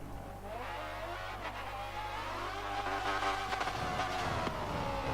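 A 775-horsepower Polaris RZR in Forza Motorsport 7 drives around a track, its engine droning steadily and close with a low hum, then swelling as it revs harder toward the end.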